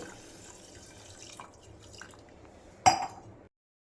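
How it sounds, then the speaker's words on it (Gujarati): Water runs and trickles steadily into a vessel of sugar, ending with a brief splash and clatter before cutting to silence. "સાકર ડૂબે એટલું જ પાણી આપણે એડ કરવાનું છે."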